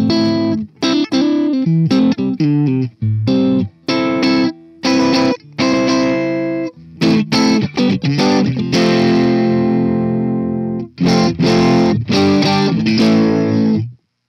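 Electric guitar played through the Fender Twin Reverb amp model of a Boss ME-90 multi-effects unit, heard alone as clean chopped chords and single notes with short gaps, ending on a long ringing chord.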